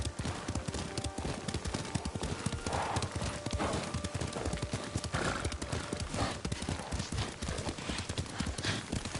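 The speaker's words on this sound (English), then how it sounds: "Lord Sakai taught me to ride a horse." Rapid clip-clop of horse hooves trotting continuously in the video game Ghost of Tsushima, with a horse whinnying now and then over a busy background; no talk.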